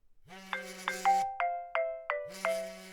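A phone rings inside Farming Simulator 25 as a clean electronic ringtone: a low tone beneath a rising and falling series of chime notes, pausing briefly before the pattern repeats, with no talk.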